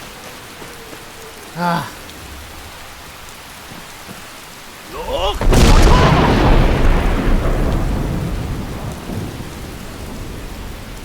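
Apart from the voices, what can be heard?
rain and thunder from the video game Skyrim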